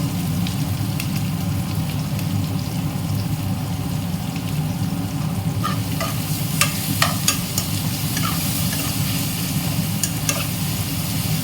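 Sautéing in a pan for a rice dish, a steady close sizzle under repeated spatula scrapes and metallic clicks that get busier midway, with no talking.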